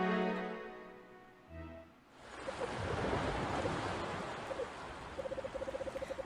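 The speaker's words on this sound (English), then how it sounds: "From the darkness an orange glow, and from the silence like crashing of waves." Crashing waves in Anodyne 2 come in after a held musical tone, bringing a broad, steady wash of surf at moderate volume with faint high chirping repeating over it.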